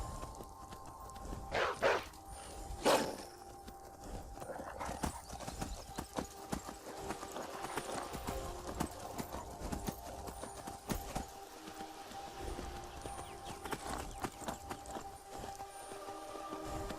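Horse hooves climbing rocky ground in the Skyrim video game, a steady close clip-clop running throughout with a few sharper knocks and faint background game sounds.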